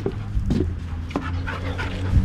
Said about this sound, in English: Dog wants to play.